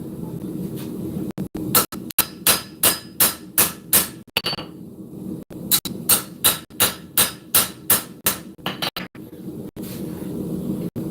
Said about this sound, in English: Have nice consistent hammer blows and keep a nice consistent profile and shape as you do it.